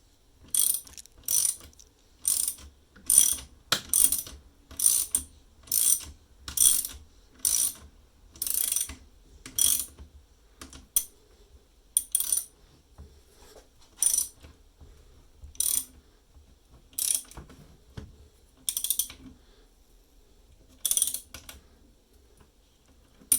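A ratchet wrench clicks in quick repeated bursts while tightening a nut on a bolt through a split wooden kitchen table leg, close and crisp, the strokes slowing and spacing out toward the end.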